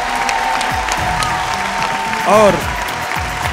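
Studio audience clapping on a Bhojpuri dance competition show, continuous and fairly loud, with a voice briefly speaking over it near the end.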